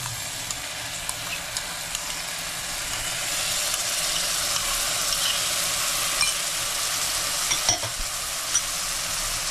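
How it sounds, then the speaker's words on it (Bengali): Sour yogurt being mixed into boiled mutton in a pan over a turned-down stove, a steady close hiss of frying that swells slightly midway, with faint clicks of stirring and no talk. "টক দইটা মেশাচ্ছি"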